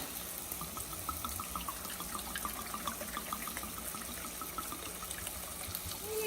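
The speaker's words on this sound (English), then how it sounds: "now we're going to go ahead and add our 1 cup of wine." One cup of wine is poured into a pan of cooked onions for French onion soup, giving a steady close trickle and gurgle of liquid with faint sizzling underneath for several seconds.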